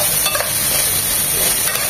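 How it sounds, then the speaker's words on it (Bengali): Julienned garlic sizzling steadily in hot oil while being stirred in a pan, a continuous close-up frying hiss with light scraping of the spatula. "এখন দিয়ে দেবো 2 চামচ রসুন, জুলিয়ান কাট করে কেটে নিয়েছি সেটা।"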